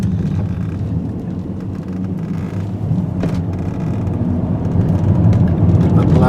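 BMW 528i E39 sedan engine pulling hard uphill, its low steady drone rising in loudness as it moves up through the gears, with a brief dip and surge at each shift; faint wind and road noise beneath.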